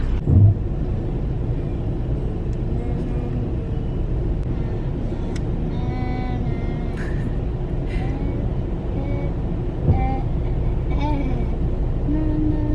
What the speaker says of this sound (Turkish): Nasıl trafik var göstereyim size.